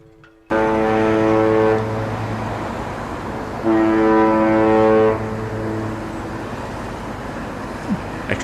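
A cruise ship's deep horn sounds twice in long, loud blasts as it departs the port of Southampton, the tone swelling and lingering over distant harbour background noise.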